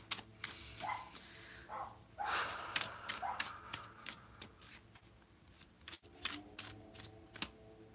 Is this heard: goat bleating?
no